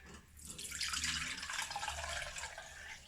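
Homemade rice milk made with sunflower seeds pours through a filter into a glass jug, a soft trickling and splashing stream that swells and then thins out, quiet and close.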